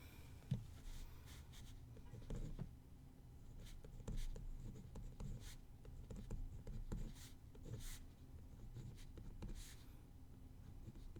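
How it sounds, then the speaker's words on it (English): Chalk or marker strokes on a board during a differential equations lecture, a run of faint, scratchy taps and squeaks in an otherwise quiet room with no talk. "I'm going to write in this form."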